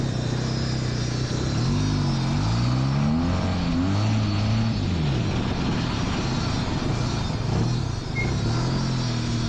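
A 13B rotary engine swapped into a go-kart revs hard and loud up close, its buzzing note rising and falling through several throttle blips over a steady roar, with no talking.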